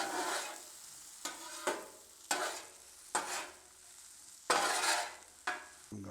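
Onions and peppers are stirred and flipped on a Blackstone flat-top griddle, with a steady close sizzle broken by about six scraping stir strokes at a regular pace, and no talking.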